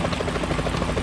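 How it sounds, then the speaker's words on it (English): A helicopter in the video game Metal Gear Solid 2 makes a loud, steady, rapid rotor chop that fills the whole stretch without any speech, heard at night aboard a ship. "Is that a chopper I just heard?"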